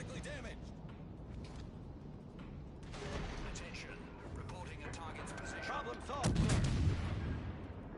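Naval shells land in World of Warships Legends, with heavy artillery booms and mechanical clanks throughout and a louder burst of impacts near the end, all under continuous game noise and talking.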